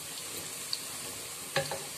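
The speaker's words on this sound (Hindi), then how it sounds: "ये जो मेरे प्याज हैं ये फ्राई हो रहे हैं" Onions frying in a pan give a steady, soft, close sizzling hiss, with one brief clink of a utensil partway through and no talking.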